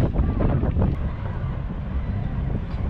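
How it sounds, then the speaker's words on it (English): Steady wind buffets the microphone aboard a boat in Boot Key Harbor, Florida Keys, with a low rumbling roar and a few thumps, continuous throughout with no clear voices. "Still pretty windy."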